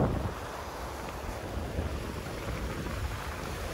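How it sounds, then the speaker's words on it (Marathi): Large sea waves roll onto a Kerala shore in a continuous broad wash of surf, heard up close with wind buffeting the microphone throughout. "लाटा बघा ना केवढ्या मोठ्या आहेत"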